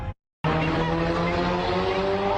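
A car pulls away with squealing tires, a brief silence followed by a loud sustained engine and tire whine that holds steady for about two seconds.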